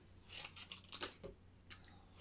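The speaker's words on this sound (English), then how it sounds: "So you just cut a little piece of your box out." Scissors snip through a small piece of cardboard box in a few quiet, crisp cuts spaced out over a couple of seconds, close up with no voices.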